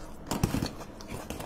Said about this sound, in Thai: อาจจะเป็นคนเคี้ยวแรงไปหน่อย